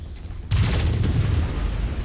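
A backup generator blows up in the game Javelin, one sudden close boom that leaves a heavy low rumble rolling for the rest of the moment.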